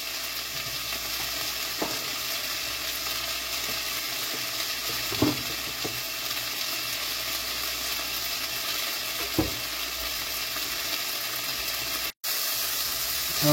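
Vegetables fry and brown in a pot, a steady sizzling hiss throughout with a few soft scrapes or stirs, fairly loud and close, no talking.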